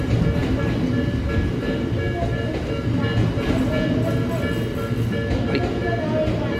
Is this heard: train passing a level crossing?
yes